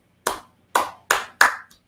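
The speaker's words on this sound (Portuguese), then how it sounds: "se eu bato palmas" Four sharp hand claps from a lecturer, spaced unevenly and each ringing briefly in a quiet room, followed by a faint fifth tap.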